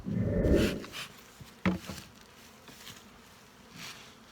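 Honeybees buzz close to the microphone among wintered nuc hives in an apiary, a loud hum at first that fades to a low background drone, broken by a couple of brief thumps.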